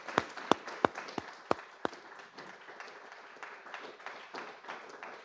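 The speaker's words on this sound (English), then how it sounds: "So a round of applause, please, for our panelists." Audience applause for the panelists at the close of a tech book talk, beginning with a few sharp separate claps and settling into a steady, moderately loud spread of clapping from a crowd that continues through the end.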